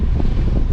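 Strong wind buffets the microphone in a brief, loud, low rumbling gust at high altitude beside a Mini Cooper S.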